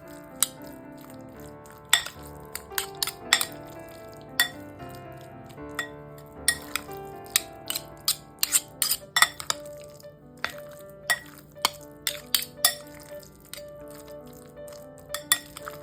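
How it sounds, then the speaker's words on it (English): Sweet potato and crab salad being roughly mixed in a bowl, with scattered clinks of a utensil against the dish and soft wet stirring, irregular light taps continuing throughout, no voices. "I'm going to give this a rough mix just to be sure that everything's coated."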